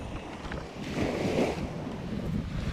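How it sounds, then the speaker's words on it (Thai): Strong sea waves wash against the coast while wind buffets the microphone, a rolling swell of surf rising in the middle of the short stretch. "คลื่นมันแรงไง"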